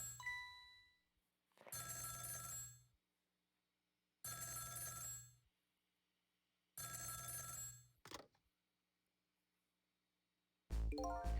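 A telephone rings in the Ghost Trick: Phantom Detective video game, four loud electronic ring bursts each lasting about a second, separated by silent gaps, before a short sharp tone at the end.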